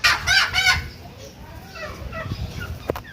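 Kadaknath chickens at a market cluck and crow loudly at first, then softer clucking carries on amid background chatter and market noise.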